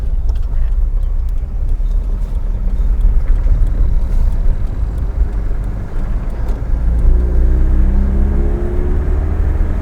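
A Volvo 340 with its hood off drives along, the engine rumbling low and steady with road noise, then swelling louder as it picks up pace toward the end.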